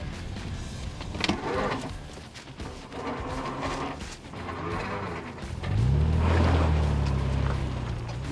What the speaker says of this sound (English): It's taking a bit of manoeuvring with the winches and chocks to try and get the trailer out